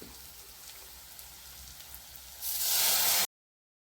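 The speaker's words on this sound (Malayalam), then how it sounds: "നമ്മൾ പുളിവെള്ളം എടുത്തു വെച്ചിട്ടുണ്ടല്ലോ നമുക്കിനി അത് ഒഴിച്ചു കൊടുക്കാം" Tamarind water poured into a pan of onion curry, a steady watery hiss that swells into a loud, bright rush near the end before cutting off abruptly.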